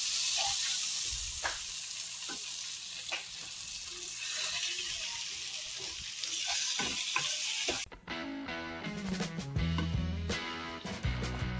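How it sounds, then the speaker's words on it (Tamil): Squid masala sizzles and fries in a pan with turmeric and chicken masala as it is stirred, a continuous loud hiss broken by scraping stirs, with clinking and clatter toward the end. "எல்லாத்தையும் சேர்த்து நல்லா கிளறி விடலாம்."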